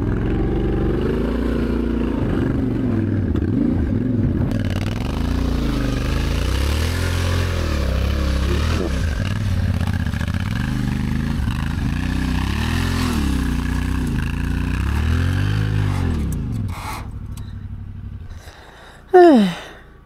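A motorcycle engine runs close by during a rally in Morocco, revving up and down with a wavering pitch for most of the clip before fading out near the end.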